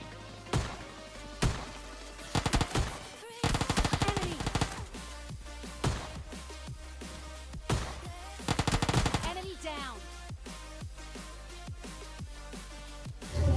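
Shotgun fire in PUBG Mobile Lite during a close-range rush against a squad, with sharp blasts and rapid bursts of gunfire scattered through a busy game soundscape.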